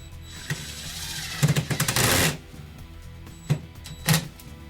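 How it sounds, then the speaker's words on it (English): Ratcheting clicks from a screwdriver turning a screw into a ceiling fan box, in short bursts with one longer run of rapid clicks, close and fairly loud over a quiet hum. "Take our screwdriver."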